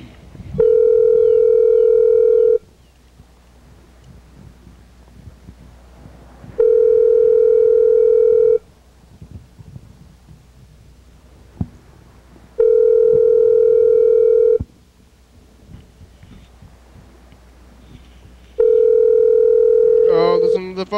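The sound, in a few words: telephone ringing on a call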